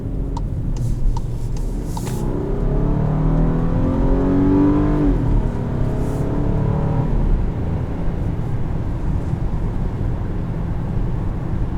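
Steady engine and road noise from a 2020 Volkswagen Atlas Cross-Sport SEL R-Line V6 restarting after an automatic stop-start. A rising engine tone swells in the middle of the clip, then the engine settles into a continuous hum.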